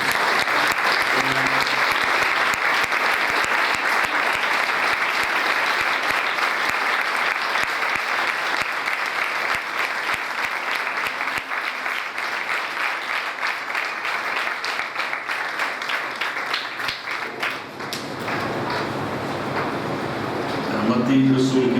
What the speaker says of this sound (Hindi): आए एक बार यीशु के लिए जोरदार ताली